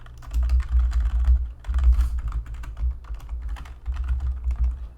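Username and password entered on a computer keyboard: close, rapid keystroke clatter in three bursts separated by brief pauses.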